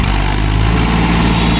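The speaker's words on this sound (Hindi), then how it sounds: "पल्ला टायर ट्रैक्टर का जोर लगा रहा भाई" Heavily loaded tractor hauling about 160 quintals, its engine labouring in a loud, steady low drone close by with no pause.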